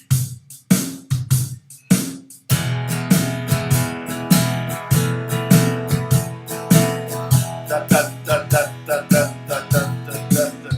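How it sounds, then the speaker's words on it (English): Muted electric guitar strums in a heavy swung, long-short shuffle rhythm, steady and close, with a few sparse strokes before the groove settles in. "if I were to go like massive swing on that"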